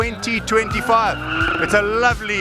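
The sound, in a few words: BMW cars skidding on a waterless skidpan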